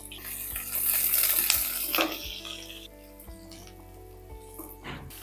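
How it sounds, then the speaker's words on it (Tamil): Shallots and curry leaves sauté in oil for a mutton curry, giving a loud sizzle that eases off, with a spatula scraping and knocking against the pan several times. "இந்த வெங்காயம் இந்த அளவுக்கு செவக்க வதக்கிடுங்க"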